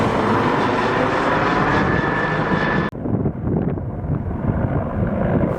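A border patrol helicopter passes over Arctic Norway in Finnmark, a loud whooshing engine roar under wind noise that cuts off abruptly midway, leaving quieter rumbling behind.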